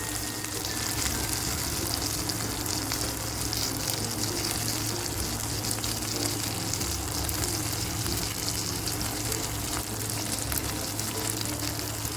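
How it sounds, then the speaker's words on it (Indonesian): Gourami fish coated in spice paste grills in a pan, giving a constant, dense sizzle and crackle of frying oil that holds at an even level throughout with no talk. "Akan saya balurin ke ikan gurame yang saya panggang tadi ya."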